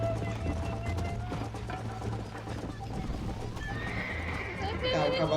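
In Red Dead Redemption, a horse neighs and snorts over steady galloping hoofbeats, close and loud, with game music and someone talking on top.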